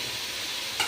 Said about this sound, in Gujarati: આપણે અહીંયા ટમેટા ને ડુંગળીની ગ્રેવી તેલમાં નાખી દેવાની